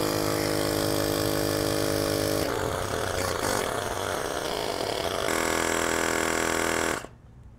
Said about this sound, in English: I'm going to test with a timer how long it takes for the Lasfit Air to pump up the tire